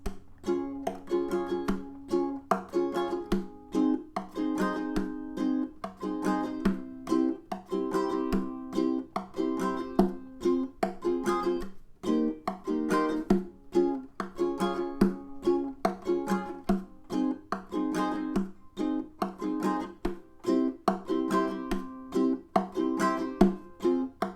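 A ukulele is strummed steadily in a repeating rhythmic pattern, moving through a sequence of chords, small and bright-toned, close and clear.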